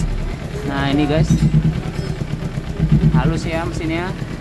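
A repaired Kawasaki Ninja 250 FI with a racing exhaust idles smoothly at close range, a steady low engine hum with slight surges, while someone talks over it.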